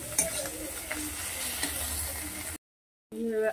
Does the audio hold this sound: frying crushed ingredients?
yes